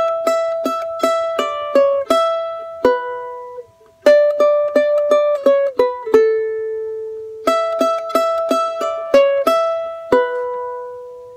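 A charango plays a phrase of Alma Llanera: bright plucked strings in quick, evenly spaced notes, three close, clear runs separated by short pauses, with no voice.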